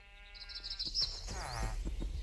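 Minecraft sheep bleat in a wavering, nasal cry near the listener, a couple of calls layered over quiet game ambience.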